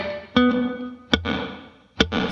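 Electric guitar through a Flint reverb pedal in its 80s mode with a short decay: three sharp plucked chords, each with a bright attack and a brief ringing tail that fades quickly before the next strum.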